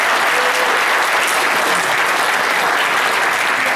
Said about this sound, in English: So, thank you for clapping.